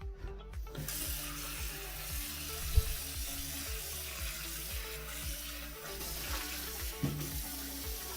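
Water running from a kitchen tap into a cast iron pan to clean it, a steady faint splashing stream with a few clinks and knocks, no talk.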